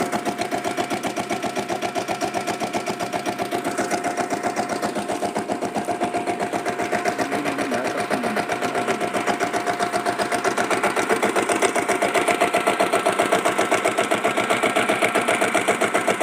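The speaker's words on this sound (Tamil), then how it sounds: "வண்டியோட பீட்டை கேளுங்க எவ்வளோ சூப்பராக இருக்குதுன்னு பாருங்கள்." A diesel Royal Enfield Bullet motorcycle engine idles steadily, a fast, even mechanical thumping with a constant pitch that runs close and loud without pause and no voices.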